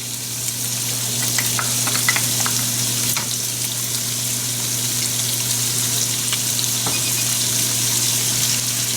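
Sausage and garlic sizzle and fry in a pan, a steady crackling hiss with occasional spatters and the scrape of stirring, close and continuous with no talking.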